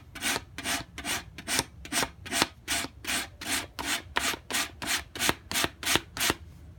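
Rhythmic back-and-forth rasping of 220 grit sandpaper rubbed along a plywood edge banding, about fifteen even strokes, close and steady with no talking.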